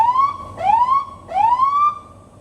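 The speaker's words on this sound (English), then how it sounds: "You want to hear our siren?" A patrol police car siren wails close and loud, rising and falling in repeated sweeping cycles, with no talk over it.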